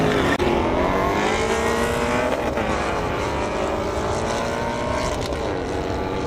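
Drag racing cars on an airstrip, a Ford GT350 among them, putting out a loud sustained engine roar that holds steady for several seconds and drowns everything else.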